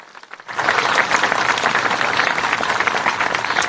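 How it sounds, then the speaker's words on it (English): Applause from the audience at a municipal band concert, a dense burst of many hands clapping that starts suddenly after a brief quiet moment and keeps going strong to the end. "give our band commission members a big round of applause"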